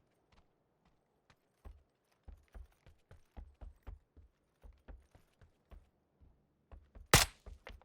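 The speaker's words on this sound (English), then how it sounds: "Swear I heard some footsteps" Footsteps in PUBG thud in a quick regular patter, quiet and close, a string of short soft hits that stop briefly before a louder final knock.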